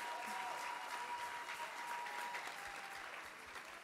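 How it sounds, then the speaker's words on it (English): A church congregation at an Easter service claps together, a full, continuous burst of applause from many hands, fairly even in loudness, with some voices mixed underneath. "Let's clap for Jesus for that."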